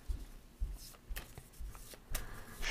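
Dixit game cards shuffled by hand at a table, a few brief riffling bursts separated by short pauses, close and fairly quiet with no talking.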